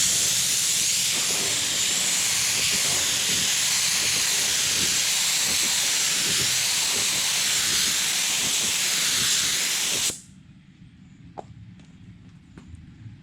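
A spray gun lays a fourth coat of automotive paint, a loud steady hiss of air and atomized paint running continuously for about ten seconds before cutting off abruptly into quiet shop noise.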